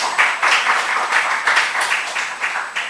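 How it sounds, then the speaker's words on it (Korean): Applause from a church congregation during a Wednesday worship service, steady clapping throughout with rhythmic surges, fairly close and alone without talk. "박수 한번 쳐주세요"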